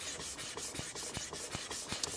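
A katana blade is pushed back and forth across a King Deluxe L400 whetstone, giving a soft, rhythmic rasping scrape with repeated strokes roughly every third of a second, close and fairly quiet.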